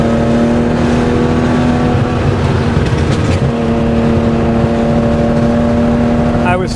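A 1972 Porsche 911 T with a 2.8-litre fuel-injected engine roars loud and steady near the red line around 7,800 RPM, a sustained high-revving drone with tonal harmonics and a voice speaking over it.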